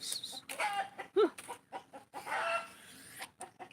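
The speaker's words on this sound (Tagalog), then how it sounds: "Mapakatay siguro tong manok na to." A chicken on a farm clucks close by in quick, short calls, with a rising squawk in the middle, over a faint background.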